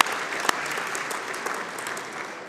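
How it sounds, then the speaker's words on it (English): An audience at the 2013 22under22 team announcement gives a brief round of applause. The clapping is dense and fairly close, with a sharp spike near the start, then it tapers off gradually. "Let's give him a round of applause."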